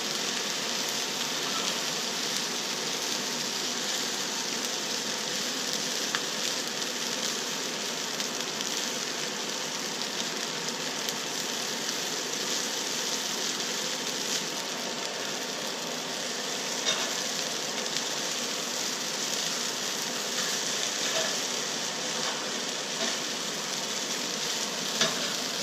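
Quinoa fried rice sizzles steadily in a hot pan, a continuous close hiss and crackle with faint scrapes from stirring, no talking.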